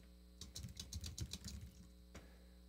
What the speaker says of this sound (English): I'm finding that maybe the typing is a little quicker than the dictation.